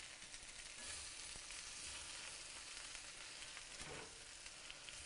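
Cabbage with cilantro stir-fries in a pan, giving a faint, steady crackling sizzle that runs evenly throughout with no voices.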